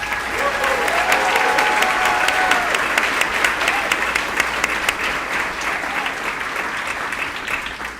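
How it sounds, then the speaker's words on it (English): Sustained audience applause at a spring nursing pinning ceremony honoring graduates: a large crowd claps steadily and loudly for about eight seconds, the dense patter holding level before easing slightly at the end. "Let's give our graduates a round of applause"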